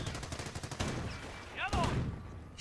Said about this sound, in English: MG is desperately trying to fire at the Austrian, which just pings off all those bullets from the Browning automatic machine gun